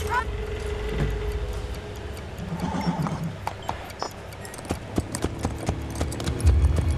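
Horse hooves pound in a steady galloping clip-clop in the video game Assassin's Creed Brotherhood, close and rhythmic over low rumbling game sound, with a brief neigh-like cry.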